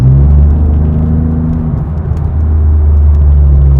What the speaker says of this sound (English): You hear the little Tiptronic doing its thing there.